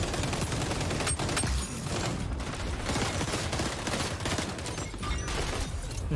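SMG fire crackles in XDefiant amid a dense, chaotic firefight. Rapid overlapping shots and impacts run without a break through a loud, busy game mix.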